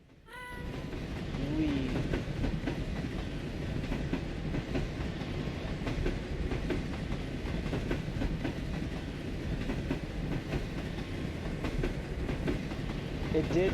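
Minecart rolling along a long railway in Minecraft, a steady loud rumble of rattling wheels on track that runs continuously throughout, with a brief higher squeal near the start.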